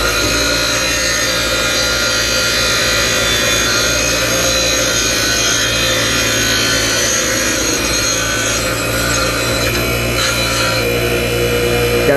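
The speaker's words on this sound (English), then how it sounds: "I use my bench grinder, and I'm going to grind off that right there very carefully" A bench grinder grinding off a link from a go-kart chain, producing a loud, continuous metallic grinding whine that holds steady for the full length without pauses.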